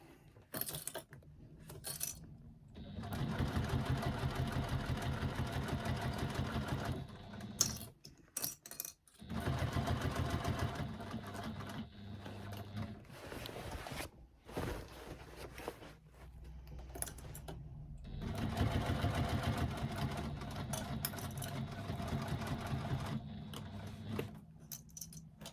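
A sewing machine stitches through a fabric bag in several runs of rapid, steady mechanical chatter. Short pauses separate the runs, and the sound is close and clear.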